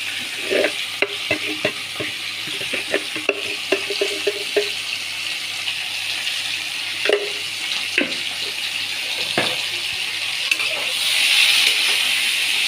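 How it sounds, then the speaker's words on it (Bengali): Drumstick, potato and pointed gourd frying with salt in a pan: a steady close sizzle with repeated sharp spatula taps and scrapes early on, thinning to a continuous hiss later. "এরকম ভাজা ভাজা করছি, এর মধ্যে একটু নুন দিয়ে দিচ্ছি।"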